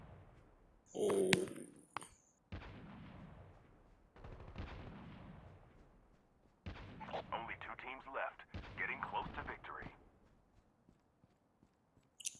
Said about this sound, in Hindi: और गन फाइट बहुत हो रही है।